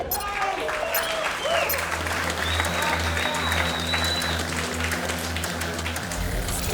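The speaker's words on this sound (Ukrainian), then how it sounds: "Оплески колі!" Crowd clapping at a bare-knuckle fist fight event as a fighter is introduced, dense applause over a loud low hum from the venue sound system, steady for the whole stretch.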